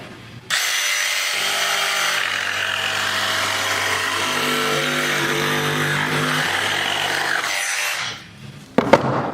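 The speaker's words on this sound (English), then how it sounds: "we will start with the Dewalt saw and the Dewalt saw blade" A Dewalt saw fitted with a Dewalt blade cuts through wood in a single steady pass lasting about eight seconds, loud and close, its motor whine rising as the blade bites, then stopping with a couple of sharp knocks.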